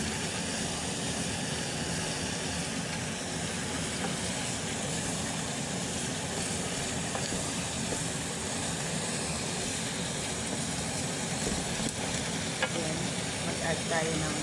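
Bihon noodles sauté in a pan with canned tuna, cabbage, onion, garlic and oyster sauce, giving a steady close sizzle and stirring scrape that runs evenly throughout with no talk.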